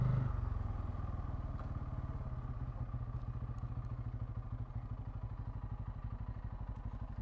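A Bajaj Pulsar N250 motorcycle accelerates hard on a highway, its engine giving a loud, steady, rapidly pulsing exhaust drone that holds throughout without talk.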